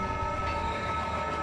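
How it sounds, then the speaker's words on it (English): Steady rumble of a moving passenger train heard from inside a carriage, with continuous low wheel-and-track drone and hiss throughout, loud and unbroken. "I am sitting in my train. And the train started about 20 minutes ago."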